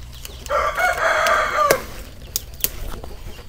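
Chickens and a rooster on a rural Vietnamese farm: a rooster's loud crow rings out near the start, followed by scattered clucks and faint flapping in the background.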